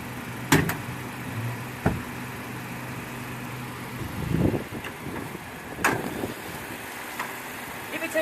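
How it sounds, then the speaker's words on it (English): A Mazda3's hood being popped open, with a couple of sharp clunks and latch knocks spaced across several seconds, a soft rustle between them and faint car and engine ambience underneath. "Let me pop the hood."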